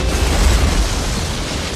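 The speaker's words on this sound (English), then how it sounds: "the suspect escapes and detonates himself" Bomb explosion from the 1994 action film Speed as a bomber detonates himself, heard as a loud, dense, sustained rumbling blast with heavy low end and no speech.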